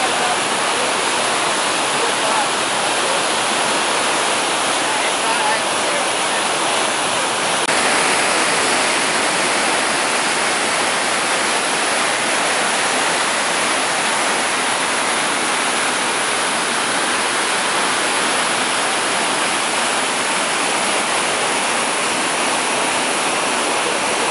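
Cascade Falls rapids on the California Salmon River roar as white water pours over rocks, a loud, steady, dense rush that fills the whole scene without a break.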